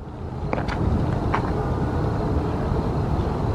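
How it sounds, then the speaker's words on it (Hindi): Gusty wind blows hard outdoors at night beside a tent. It is a continuous, loud rumbling roar with a few faint higher crackles, and there is no talk. "देख कितनी जोर की चल रही हवा है। हवा चलने लग गई।"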